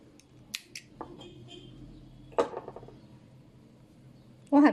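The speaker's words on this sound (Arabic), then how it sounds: "نبتدي نقص الخيط ده طالما كده خلاص مش محتاجينه" Scissors snip crochet thread in a few short, sharp clicks spread across a quiet moment, with one louder cut near the end.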